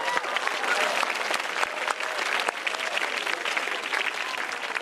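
An audience at a motivational comedy talk claps steadily for several seconds, a dense, even patter of many hands heard from a moderate distance.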